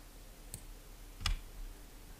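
Two crisp computer mouse clicks, one light and one a little firmer, spaced apart in a quiet room while editing an embroidery design; no talk.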